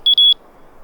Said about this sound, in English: This is the volume button, which will change the volume of the beeps.